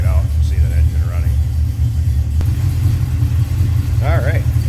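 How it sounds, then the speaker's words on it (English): The engine of a 1972 Oldsmobile Cutlass two-door runs at a steady idle, a loud low rumble that continues throughout while a person talks over it. "We'll pop that engine bay so you can check it out and see that engine running."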